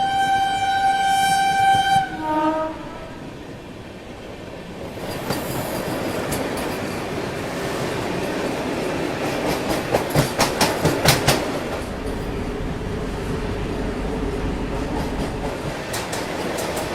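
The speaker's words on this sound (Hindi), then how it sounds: "बनारस नई दिल्ली वंदे भारत एक्सप्रेस।" The Banaras–New Delhi Vande Bharat Express sounds a loud horn blast, then rushes past at speed with a roaring whoosh and a rapid run of rhythmic wheel clacks, the rumble fading into steady rail noise.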